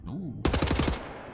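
Rapid automatic gunfire erupts in Wolfenstein: The New Order, a loud, dense burst lasting about half a second after a short vocal sound, then trailing off.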